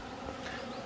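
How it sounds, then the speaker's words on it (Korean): Robber honeybees swarm around a hornet trap, drawn by its sweet scent, making a dense, steady buzzing hum close by with no voices. "말벌 포획기에 단내를 맡고 모여드는 건 다 도봉입니다"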